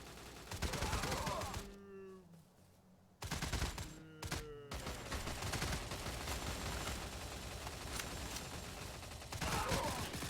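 An HK G3A1 rifle fires at zombies in a video game, with loud, sustained rapid shots nearly filling the stretch, broken by two brief pauses near the start.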